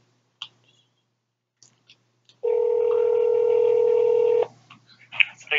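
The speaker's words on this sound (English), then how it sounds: "let's call Applebee's, put this on speakerphone" A telephone dial tone on speakerphone during a call to an Applebee's restaurant, a steady loud tone lasting about two seconds after a few clicks, followed by faint clatter.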